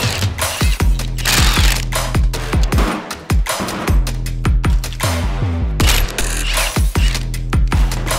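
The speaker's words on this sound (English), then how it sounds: "Using a 16 millimeter socket and an impact wrench to help speed things along, I'll be removing these three bolts" Impact wrench with a 16 mm socket removing bolts from an electric sway bar disconnect motor on a Jeep JL Wrangler Sport, loud close rapid hammering rattles in repeated bursts with brief gaps.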